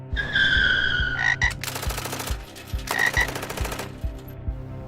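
Frogs croak in harsh, rhythmic bursts, loud and close, over a steady thumping low pulse, with a few broad rattling bursts in the middle.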